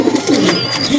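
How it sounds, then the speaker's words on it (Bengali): Pigeons in mixed black and white plumage coo close and loud in a brief, rolling burst, with a thin chirp laid over the low calls. "অনেক রঙের কবুতর, কালো সাদা, কালো সাদা মিক্স"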